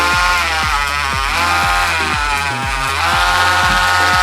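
A nail grinder whirs at a steady, high-pitched buzz while grinding a dog's nails, loud and close, with rhythmic low knocks pulsing underneath throughout and no talking.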